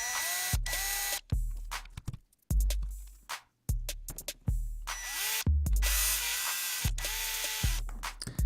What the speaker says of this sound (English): Make sure you're careful not to drill too deep.